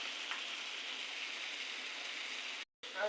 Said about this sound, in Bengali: আগে ভেজে নেই।